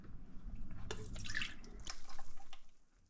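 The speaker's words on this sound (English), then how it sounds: "So let's put the chicken broth in." Chicken broth poured from a 32-ounce container into a cooking pot for green banana soup, giving a close, splashy liquid pour with a few sharper drips and gurgles over about three seconds.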